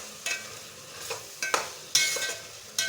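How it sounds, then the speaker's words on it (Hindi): Chicken keema and capsicum frying in ghee for jalfrezi, stirred in the pan: a low background sizzle punctuated by several sharp scraping bursts from the spoon at uneven intervals. "अब हम इसको 2 से 3 मिनट अच्छी तरह से भून लेंगे।"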